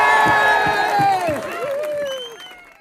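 A large outdoor crowd at a pro-Europe march outside Parliament in Scotland cheers, whoops and claps loudly after Andy Murray's Wimbledon win, a dense roar with high shouts that slowly fades over a few seconds.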